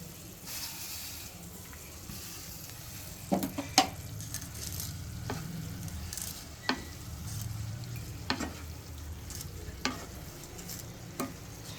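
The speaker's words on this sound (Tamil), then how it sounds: "இப்போ இந்த சேமியாவை போட்டுக்கலாம்." Vermicelli dropped into boiling water in a pan while making semiya upma, with scattered sharp clinks and stirring scrapes over a low bubbling hiss, close by and moderately loud.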